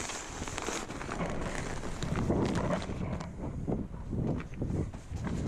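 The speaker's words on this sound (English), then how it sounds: "Windy now." Steady wind buffets the microphone at an outdoor ranch well house build site, a broad rushing roar that swells and eases in gusts throughout, with no one speaking.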